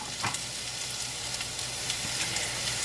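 Mushrooms sizzle steadily in a hot frying pan, a constant crackling hiss with occasional louder pops and a light stirring scrape.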